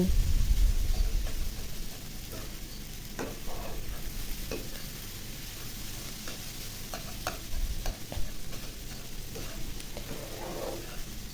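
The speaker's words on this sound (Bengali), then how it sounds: "এভাবে নুডলসটা মশলার সাথে মিক্স করে দিব, তারপরে হয়ে যাবে আমার" Maggi vegetable noodles are stirred with their masala in a hot pan, giving a close, steady sizzle with repeated scraping and stirring strokes throughout.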